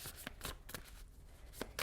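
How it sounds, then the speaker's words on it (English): Deck of tarot cards being shuffled up close, a quick run of soft riffling bursts spaced irregularly, faint and without talk. "I'm giving them a good shuffle."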